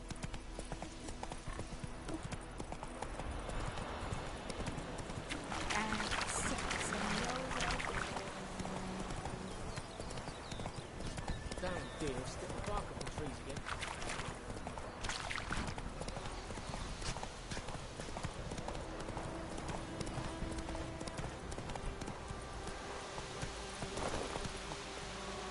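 A horse gallops in The Witcher 3, its hooves drumming in a fast continuous clip-clop that runs loud and steady throughout, with a brief whinny and faint game ambience underneath.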